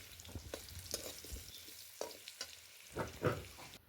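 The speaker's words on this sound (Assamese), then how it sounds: "ইয়াৰ আলুখিনি ফ্ৰাই হৈ গৈছে ধুনীয়াকৈ।" Potatoes finish frying in a pan for an Assamese chicken curry, giving a quiet sizzle broken by scraping stirs and clatter, with a louder burst of activity near the end and nobody speaking.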